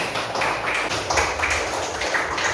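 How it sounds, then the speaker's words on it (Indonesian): Students in a classroom give a brief round of applause, a short burst of quick, uneven clapping from a small group. "Tepuk tangan untuk kita semua."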